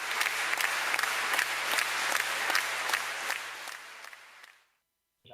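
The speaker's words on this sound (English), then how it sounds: "A round of applause, please." An audience at a Rotary public image seminar applauds, a steady clapping that fades out after four and a half seconds into silence, followed by the start of a voice.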